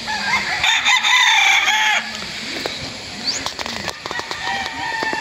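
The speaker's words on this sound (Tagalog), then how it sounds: "Gandang manok nito." Gamefowl roosters at a game farm near Bacolod crow loudly and cluck over a busy outdoor backdrop, with several birds overlapping, some wing flapping and faint voices in the background.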